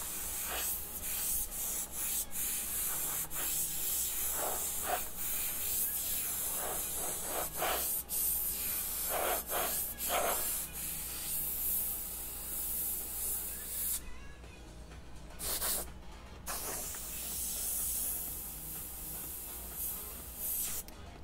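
A spray gun hisses in steady bursts as black paint is applied to an interior dash panel of a Jeep Wrangler, with short pauses between passes and no talking.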